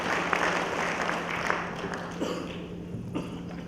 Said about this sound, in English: Can you give a round of applause to Peter?